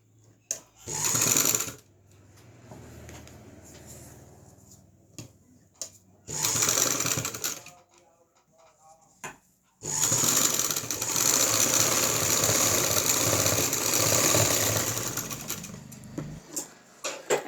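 A sewing machine stitches the neckline of a lined kurta in bursts, a short run, a pause, another short run, then a long continuous rattling stretch, close and loud between quiet handling gaps.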